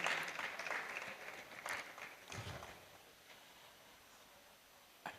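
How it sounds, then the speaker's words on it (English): Applause that starts fairly strong and gradually fades away, with scattered claps trailing off toward silence. "A round of applause for him,"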